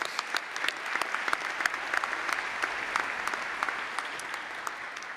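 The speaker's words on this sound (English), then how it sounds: "One round of applause for all of our full-time MBA awardees." An audience at a graduate programs graduation ceremony applauds MBA award recipients, a steady wash of many hands clapping for several seconds with a few sharper claps standing out.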